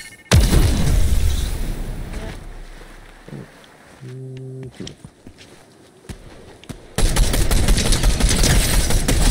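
Bursts of gunfire in a multiplayer battle royale video game, rapid shots loud at the start and again near the end, with footsteps and players talking in between.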